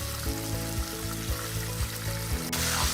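Chicken pieces for a homestyle wedding-style chicken roast frying in oil, with a steady, close sizzle running the full length, a low repeating hum beneath, and a brighter burst of hiss near the end.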